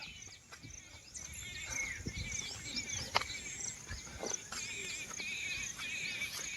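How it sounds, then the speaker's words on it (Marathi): Many birds chirping and calling in a continuous outdoor chorus, with bright repeated high calls and occasional light knocks underneath. "पक्ष्यांचा आवाज येतोय"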